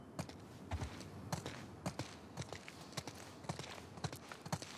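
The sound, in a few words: horse hooves clip-clopping in The Last of Us Part 2 video game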